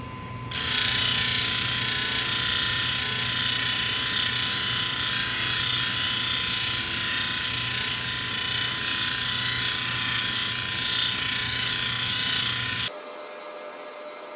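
A lapidary 280 grit wheel grinds blue lace agate from Namibia with a loud, steady whirring rasp. The sound holds almost unchanged for about twelve seconds, then cuts to a quieter motor hum.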